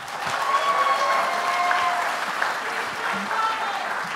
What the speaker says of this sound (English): Ladies and gentlemen, another round of applause for these Tewaaraton Warriors.